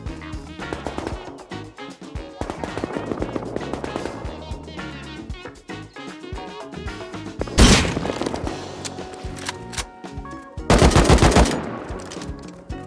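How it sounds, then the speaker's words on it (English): Gunfire from the L9 rifle in the video game Rust comes as rapid, sharp shots in clustered bursts, with a couple of louder, denser volleys near the end against faint game ambience. "Just try and pop a quick sneaky L9 headshot in."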